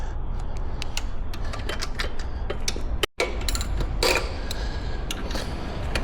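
A wrench turns 13 mm bolts on a Triumph Bonneville motorcycle, producing a steady run of close, crisp ratchet ticks and creaks with one brief dropout midway.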